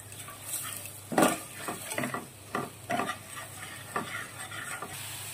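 Ground cumin, turmeric and Kashmiri chilli powder stir-fried in a pan for a raw jackfruit curry: a soft continuous sizzle broken by repeated scraping and clinking strokes of a spoon against the pan, moderately quiet.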